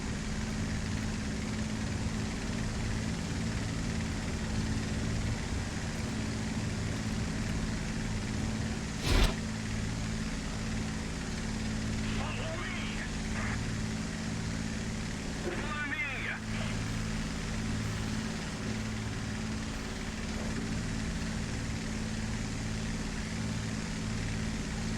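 Aircraft engine droning steadily in flight in War Thunder, a low continuous hum at moderate level with one sharp click and a brief faint warbling tone partway through.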